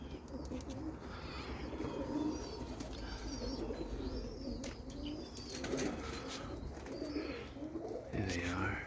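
Roller pigeons in a loft coo softly and repeatedly nearby, with rustling and occasional wing flaps, under a steady background murmur.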